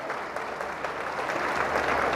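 An audience at an Indian political rally applauds with steady, dense clapping that stays moderately loud and continuous for a couple of seconds, with no voices standing out.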